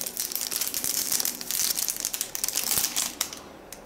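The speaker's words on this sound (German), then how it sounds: "Das muss ich auspacken, um das sehen zu können." Crinkly plastic wrapping being pulled and crushed while unpacking a rubbery item from an EVOLVE PS4 press kit, a dense, continuous close-up crackle with sharper snaps near the end.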